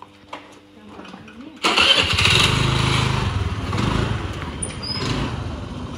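Activa scooter engine cranking and catching after a quiet moment, then settling into a steady, close putter of idling.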